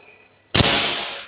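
A single sharp, loud PCP air rifle shot cracks out after a quiet moment, its bright burst trailing off into a brief hiss.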